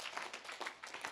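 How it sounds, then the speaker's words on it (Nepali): A congregation at a church service clapping together in quick, soft bursts that blur into a brief patter, heard faint and somewhat distant. "एकताल ताली बजाएर हाम्रो परमेश्वरलाई महिमा दिनेछौँ।"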